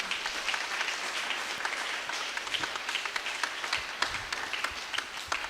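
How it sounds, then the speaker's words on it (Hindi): A church congregation at St. Mary's Church applauds during a Marian feast and novena service, with steady, moderately distant clapping that holds evenly throughout. "आइए हम जोरदार ताली के साथ उनको धन्यवाद दें।"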